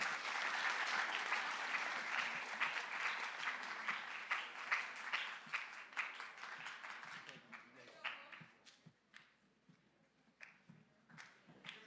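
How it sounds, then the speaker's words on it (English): An audience at a junior high school academic awards ceremony claps steadily, the dense applause thinning into separate, sparse claps toward the end. "give them a round of applause"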